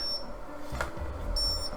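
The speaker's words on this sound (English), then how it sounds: "when you advance the paper, you should hear a little beep" A Fujifilm ASK-300 photo printer gives a thin, high electronic beep twice as the paper advances, once near the start and again near the end, over a steady mechanical hum with a soft clunk between.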